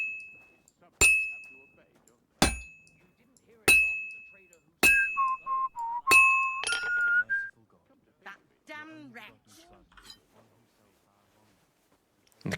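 Glasses clink at a wedding in the Helpful Henry video game: five or six sharp, ringing chimes spaced about a second apart, followed by faint whistly tones and soft murmurs.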